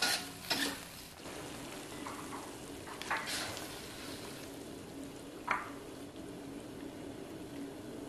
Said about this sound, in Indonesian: Tambahin ini serai sama daun salamnya. Masukin si cekernya.